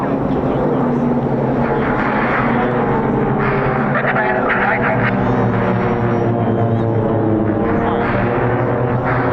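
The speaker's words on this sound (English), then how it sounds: "get your eyes ready for the simulated air combat maneuver 2 versus 2" Several military jets, Typhoons among them, fly a two-versus-two simulated air combat manoeuvre at the RAF Cosford air show, a loud continuous roar of engines filling the sky.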